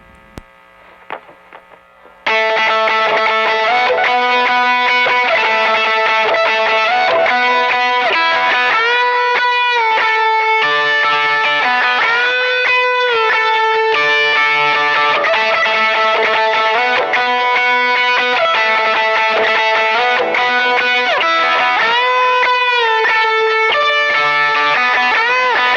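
A heavily distorted electric guitar solo, with delay trails, sustained bending notes and fast runs over a steady backing after a brief quiet intro.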